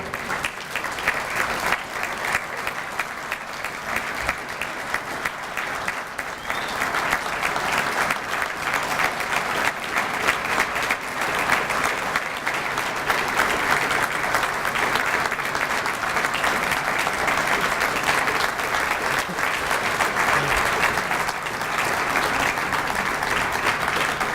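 Dinner audience at a chamber of commerce awards night applauding an award winner, sustained loud clapping from a large room that continues evenly for over twenty seconds with no talk on top.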